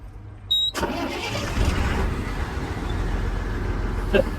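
A truck's engine cranks and catches after a short beep, then settles into a steady low rumble close by for several seconds.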